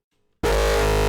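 Resonant synth tone from Serum with a boosted EQ resonance peak, bursting in abruptly after brief silence and holding as a loud, dense, buzzy sustained sound.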